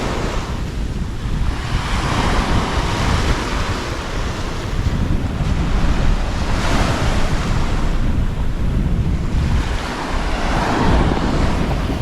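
Sea waves breaking along the Norfolk coast at night, a steady broadband roar of surf with gusting wind buffeting the microphone, continuous and fairly loud with no voices.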